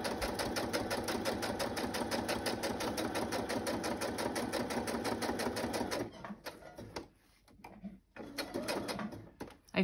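A sewing machine stitching through brown paper bag journal pages, running steadily and close up for about six seconds with a rapid even rhythm, then stopping and starting in short uneven bursts.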